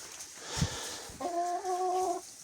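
Leghorn rooster and hens in a coop, soft scattered clucks followed by a clear, drawn-out vocal call held for about a second, close and fairly loud over quiet barnyard background.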